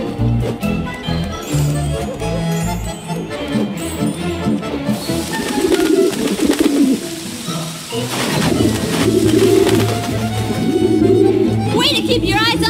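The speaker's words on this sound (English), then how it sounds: "First we need to get rid of these pigeons." Pigeons cooing in the Ratatouille video game, soft repeated coos over game music and effects, with a character talking at times.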